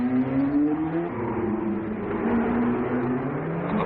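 Formula One race cars from 1961, a Lotus, a Porsche and a Ferrari among them, drone through the Monaco Grand Prix street circuit, with engine notes whining and shifting pitch in a steady, dense roar on muffled archival sound.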